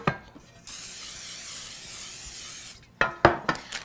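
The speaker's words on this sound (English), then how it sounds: "I'm just going to spray the bottom and the sides." Nonstick cooking spray hisses steadily onto the bottom and sides of cake pans for about two seconds, followed by a few sharp clattering knocks of the pans.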